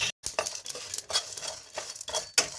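Whole cumin seeds stirred in a hot, dry frying pan, giving repeated light scraping and clinking strokes of a spatula against metal, close and fairly quiet, with a brief gap near the start.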